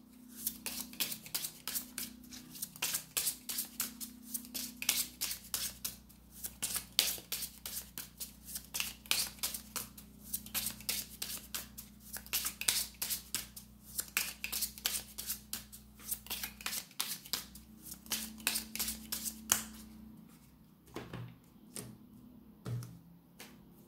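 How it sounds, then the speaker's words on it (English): A Rumi Oracle deck being shuffled and a card pulled, with rapid, crisp card riffles repeating in steady bursts for a long stretch before a card is set down near the end. "I'm going to pull one card from the Rumi Oracle deck."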